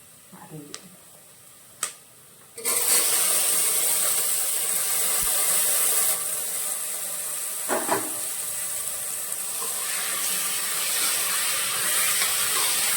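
Tomatoes hit a pan of sautéed onions with a couple of soft clicks, then a steady, loud sizzling hiss takes over and keeps going to the end.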